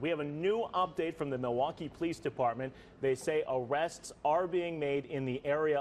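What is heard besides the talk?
No distinct noise like a dog, phone or traffic.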